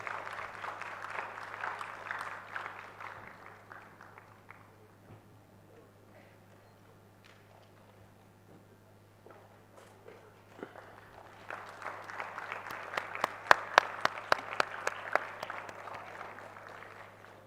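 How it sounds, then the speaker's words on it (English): Audience applause at a conference panel session breaks out in two bursts of scattered clapping, moderately distant in a large hall, with a quiet lull between them. "Audience, can we have a unit applause for one of the panelists for this panel session?"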